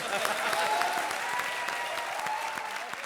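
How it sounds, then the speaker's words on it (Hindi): A comedy show's studio audience applauds with steady, dense clapping for a few seconds, heard at a moderate distance. "तालियां बाबा के लिए।"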